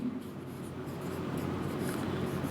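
Pen or marker writing steadily on a board or notes during a biology lecture on neuron structure, a continuous close scratching texture with no talk over it.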